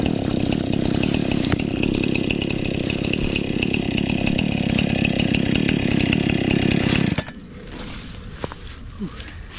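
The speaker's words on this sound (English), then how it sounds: "chopping down the big stuff with the chainsaw" A chainsaw cutting brush during land clearing roars loudly and steadily up close for about seven seconds, then cuts out abruptly, leaving quieter outdoor background with faint voices.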